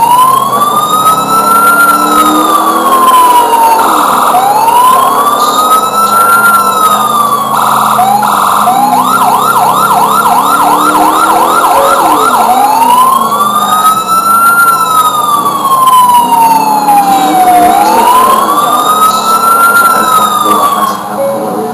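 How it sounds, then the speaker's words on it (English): A loud police car siren wails up and down continuously, cycling through rising and falling sweeps with a rapid yelp section in the middle, very close. "Lights and sirens."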